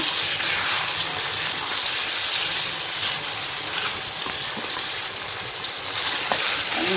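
Chicken pieces frying in a pan for Shimla chicken, a loud, steady hiss and sizzle that runs without pause and stands alone with no voices.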